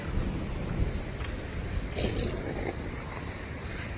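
Distant thunder rolling over a mountain trail, a low broad rumble swelling and fading under steady wind and light rain noise throughout.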